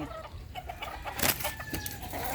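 A White Kelso hen on a farm clucks in short, close bursts, with a brief louder squawk midway and a steady outdoor background.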